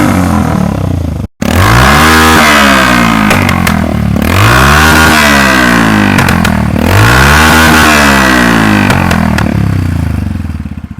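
A modified Bajaj CT110X motorcycle revs repeatedly through a loud exhaust, each very loud rev rising and falling in a regular rhythm with a brief cut near the start.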